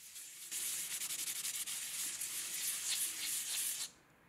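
A diamond tool grinds the base of a porcelain pot, giving a steady, close, rasping hiss that runs unbroken for about three and a half seconds before cutting off abruptly.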